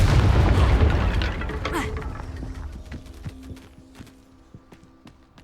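Confringo fire spell explosion in Hogwarts Legacy: a heavy boom opens loud, then decays into crackling debris, scattered pops and a faint lingering tone, fading over several seconds.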